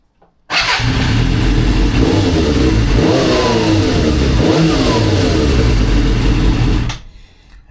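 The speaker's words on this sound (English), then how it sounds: "Let me just start it up." A Suzuki GSXR 400 motorcycle with its side fairings removed starts up and revs loudly and close for about six seconds, then cuts off.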